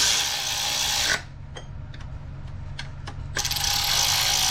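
A ratchet wrench tightens 10 mm bolts during a timing chain job on a 2003 Chevy Cavalier, giving rapid close clicking bursts separated by a short pause with a few isolated clicks.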